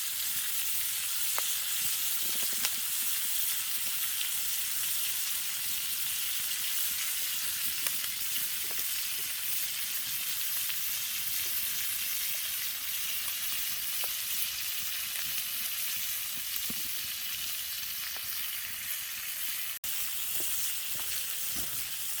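Food sizzles steadily in a pan on a camp stove inside a hot tent on a snowy beach in winter, with a constant close frying hiss and occasional small pops and stirring clicks throughout, no talking.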